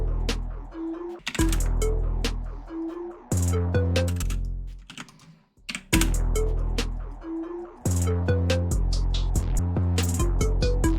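808 bass in an FL Studio beat made in a dark trap style: loud booming sub bass notes with hi-hats, clicks and melodic synth stabs over a steady pattern, briefly dropping out near the middle before the full beat returns.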